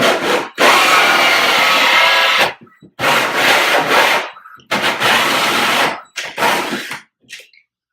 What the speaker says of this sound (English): we're going to work this hole saw right through the drywall